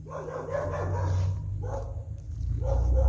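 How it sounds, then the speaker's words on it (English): Dogs bark in irregular bursts at a moderate distance over a steady low rumble, with a few yips mixed in, at a tiny-home build site in Panama. "There's the neighbor's dogs, always."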